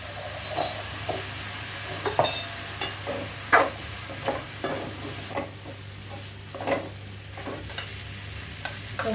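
Frying vegetable biryani masala with added spices hisses steadily in a pot while a spoon scrapes and knocks in an irregular run of close stirring strokes, with a low hum underneath and no speech.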